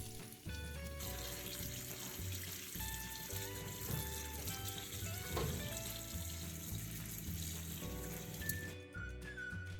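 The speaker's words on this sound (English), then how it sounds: "the first thing to do is wash it clean to remove any dirt." Ginger is rinsed under a running tap, with water steadily splashing and trickling into a sink behind soft background music, fairly faint and without speech.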